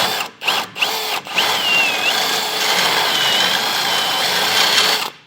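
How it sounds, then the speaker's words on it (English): A power drill fitted with a grinding bit whirs with a high grinding whine while cleaning a hole in a vehicle frame, starting in a few short bursts and then running steadily before cutting off. "So I'm just going to take a grinding bit"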